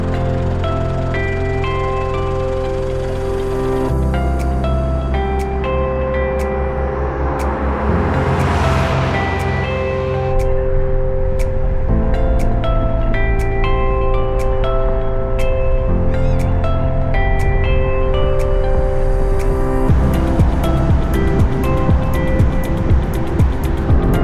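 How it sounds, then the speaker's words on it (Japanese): A car cruising on the road toward Khao Yai in Thailand, a steady interior engine and road hum with a shifting tonal whine, a surge of rushing wind midway, and scattered clicks and thumps. "このまま車をね走らせていきたいと思います"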